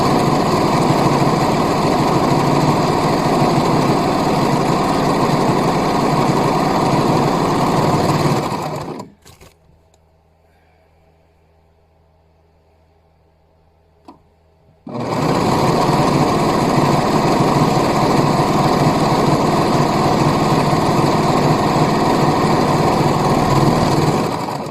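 A sewing machine stitches the cuffs and bands of a hoodie in slippery squish fabric, good side to good side. Two long, loud, steady motor runs sit close to the mic, separated by a few seconds of near silence.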